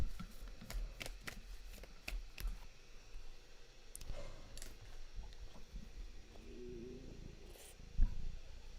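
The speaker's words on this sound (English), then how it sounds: "I'm just going to pull 3 cards out for the collective" Tarot cards are shuffled and pulled from the deck, giving a steady run of soft riffling and sharp little clicks and snaps, close by, with no voice.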